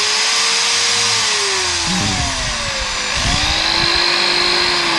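A power drill bores through material at close range with a loud, continuous motor whine. Its pitch sags as it bites under load, then recovers, and nobody speaks over it.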